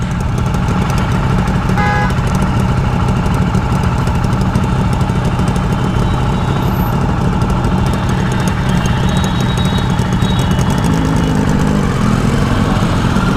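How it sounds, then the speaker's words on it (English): A Jawa Perak motorcycle engine runs steadily while being ridden, a loud continuous mid-to-low rumble with constant road and wind noise and no pauses, close to the listener throughout. "Just riding my motorcycle, having fun."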